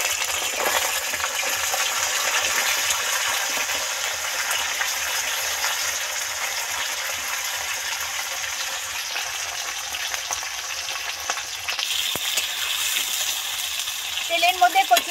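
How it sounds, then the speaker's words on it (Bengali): Taro pieces fry in hot oil with dry red chillies and bay leaves, giving a steady, loud sizzle that runs throughout with a few clinks near the end. "তেলের মধ্যে কচু দিয়েছি, এবার একটু লবণ দেব"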